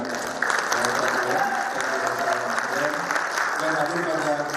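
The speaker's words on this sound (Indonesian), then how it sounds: "Tepuk tangan buat Bapak Prabowo" Audience applause welcoming Prabowo Subianto at an ICMI plenary session, a dense steady clapping from a large indoor crowd that swells in and holds, with a voice speaking over it.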